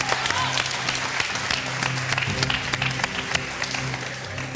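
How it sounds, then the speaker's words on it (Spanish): A TV studio audience on the Chilean show Vértigo applauds, with sharp individual claps standing out over a lively crowd roar and a low musical hum beneath. "el aplauso de Vértigo"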